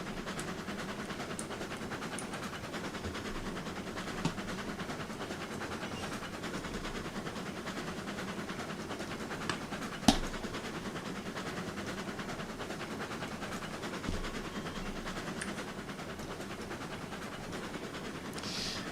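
Video game locomotive rolling along, a quiet continuous rumble of rail noise with faint clicking wheels and a couple of small knocks, steady throughout with no voices.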